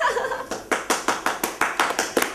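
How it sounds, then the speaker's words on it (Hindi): A comedy stage audience claps in a clear, rhythmic series of about ten sharp, close hand claps evenly spaced over two seconds, loud and distinct, with a little murmur beneath at the start. "तालियां भाई, तालियां तालियां तालियां।"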